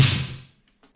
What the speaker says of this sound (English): So I've got a snare that sounds like this,